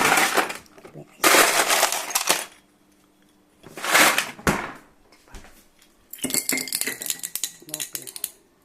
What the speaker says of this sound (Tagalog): Lagyan po natin ng ice.